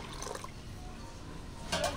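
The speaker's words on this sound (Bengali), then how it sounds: "এবার এর মধ্যে আরো জল আমি মিশিয়ে দিচ্ছি" Water poured into a raw green mango sherbet, a soft steady liquid wash running throughout with a brighter splashing burst near the end.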